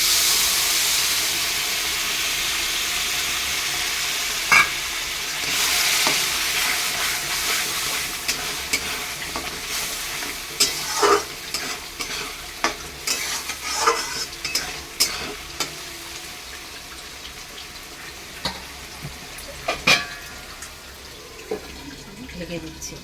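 Ginger-garlic spice paste sizzles loudly in hot oil as blended tomato water is poured in for a papaya-potato meat curry. A steady hiss runs throughout, broken by sharp spoon scrapes and clinks that grow busier in the second half.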